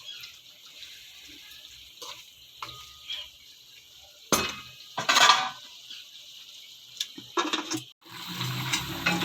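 Potato curry (aloo ki bhujia) with spices is mixed in a pot: quiet, irregular scrapes and wet stirring bursts come and go, with near-silent pauses between them.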